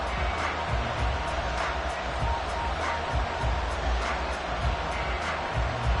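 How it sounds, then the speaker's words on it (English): Steady roar of a stadium crowd in the Madden football video game, a continuous broad wash of noise with faint rhythmic thumps underneath, no voices picked out. "this crowd is making an impact right now"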